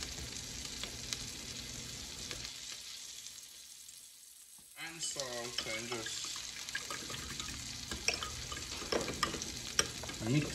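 Beef seasoned with black pepper and salt is stirred in a pot, with soft scraping strokes over a gentle sizzle and faint background running water.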